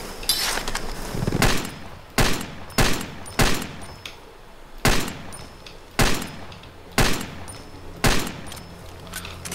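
Pistol shots fired while hunting in Far Cry 2: about nine sharp, separate cracks spaced irregularly over quiet outdoor ambience, with no talking.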